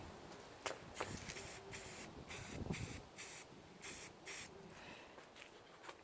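Spray paint hisses out onto a Beyblade spinning top in a run of short bursts, some longer than others, close and fairly quiet, with no talking.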